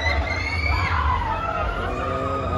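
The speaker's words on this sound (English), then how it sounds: "Oh, the way they screaming" Riders on a fairground ride scream and shriek together in a dense, loud crowd roar that holds steady throughout, with high yells rising above a rumbling background.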